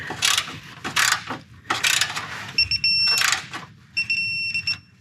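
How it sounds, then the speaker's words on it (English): Short bursts of torque-wrench ratcheting on cross member bolts during a 100 Series motor mount replacement, close and metallic with brief pauses between pulls and a few thin ringing tones. "All right, so now I'm gonna go ahead and torque everything."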